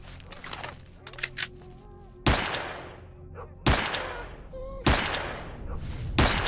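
Pistol shots in the shooter game S.T.A.L.K.E.R.: Shadow of Chernobyl, four loud sharp reports spaced about a second or more apart, each with a decaying echo tail, preceded by quieter game ambience and small clicks.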